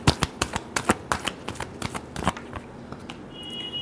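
Tarot deck shuffled by hand, a quick run of crisp riffling snaps and flutters close up, easing into quieter handling.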